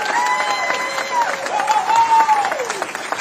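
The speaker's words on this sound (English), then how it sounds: "he deserves a huge round of applause every time you hear his name" Rally crowd at a union get-out-the-vote event in Pennsylvania applauding and cheering, dense clapping with a whistle-like tone sweeping over it, loud and close.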